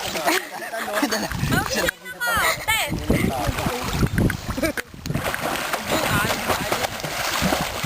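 A boat moves on the water with a continuous rushing, sloshing roar close by. Voices talk and call out over the din throughout.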